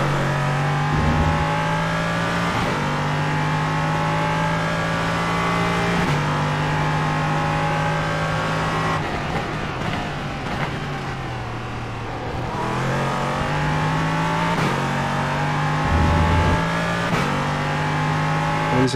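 LMP3 race car engine in iRacing on the Montreal street circuit, loud and continuous with a steady high drone, shifting pitch as it revs up and down through corners and gear changes, no talking.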